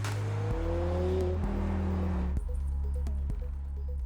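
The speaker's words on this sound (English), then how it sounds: "The Audi R8 Spyder, the first mid-engine sports car from Audi" An Audi R8 Spyder mid-engine sports car, a convertible based on the Lamborghini Gallardo, revs loudly up through the gears with sharp shifts and a rising engine note, close and continuous with no talk.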